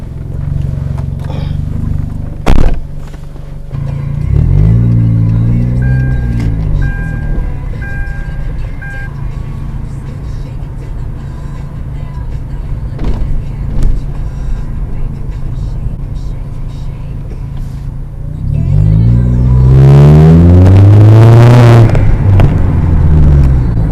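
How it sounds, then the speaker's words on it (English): A Hyundai Genesis Coupe, heard from inside the cabin, revs hard in two loud surges, first around five seconds in and then longer near the end. Quieter driving noise and faint chimes fill the gap between them. "it doesn't take a car expert to know that this dude definitely stepped on the gas"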